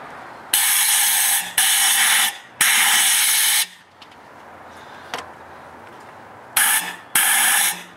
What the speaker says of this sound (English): we need to blow them out with compressed air